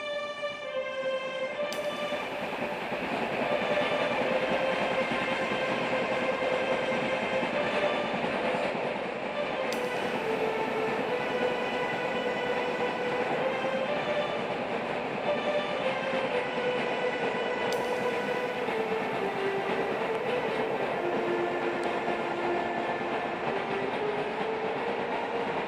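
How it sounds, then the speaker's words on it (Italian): A train runs steadily at speed, with a continuous rumble, rhythmic clatter and a sustained tonal whine that slowly shifts pitch throughout. "Intanto il treno andava veloce"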